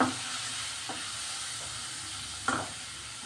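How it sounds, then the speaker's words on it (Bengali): Ground cumin frying in a hot pan gives a steady, soft sizzle with a few brief stirring scrapes, close by, with no one talking. "জিরে গুঁড়ো একটু ভেজে নিলাম"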